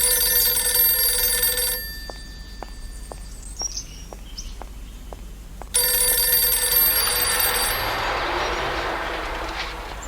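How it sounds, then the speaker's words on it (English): A telephone rings in repeated short bursts in the Journey to the Center of the Earth video game, sharp and clear between swells of background music and ambience, with no talking over it. "Could that be a telephone ringing?"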